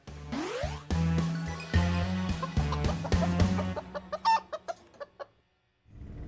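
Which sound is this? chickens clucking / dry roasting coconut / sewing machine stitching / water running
chickens clucking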